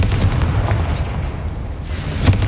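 Confringo fire spell in Hogwarts Legacy, a low rumbling explosive boom with crackling bursts and a sharper blast near the end, loud and close.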